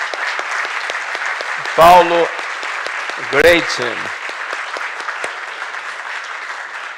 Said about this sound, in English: Could you please give applause there?